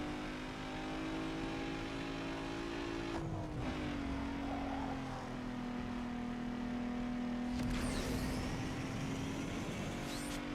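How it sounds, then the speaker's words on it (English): Race car engine in Need for Speed Underground 2 on PS2, holding a steady high drone with a pitch dip and a brief whooshing surge of nitrous boost, loud and continuous without talk. "Just using up some nitrous so I can continue to pull away."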